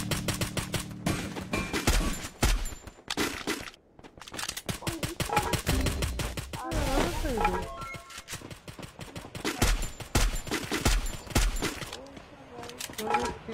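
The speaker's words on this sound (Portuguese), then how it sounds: "Atira, Atom." Rapid gunfire from the mobile battle game Free Fire crackles in dense, repeated bursts almost throughout, mixed with other game effects and overlapping excited talk from players.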